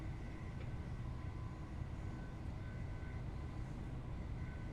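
A train running on the King's Lynn to London King's Cross line in Train Sim, a steady low rumble of wheels and motor with faint higher whines, constant and unbroken throughout.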